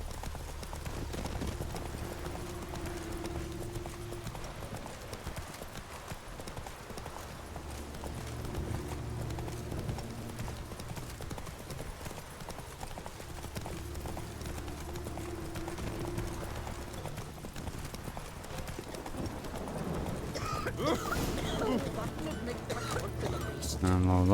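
Roach, a horse in The Witcher 3, runs with steady rhythmic hoofbeats under game music and ambience, moderately loud and continuous, with voices talking over it.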